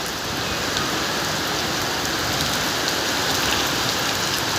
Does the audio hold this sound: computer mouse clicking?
no